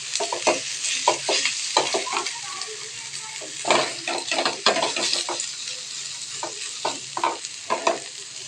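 Vegetables and egg frying together in a frying pan, with steady sizzling under repeated scraping and stirring strokes of a utensil against the pan, close and fairly loud throughout.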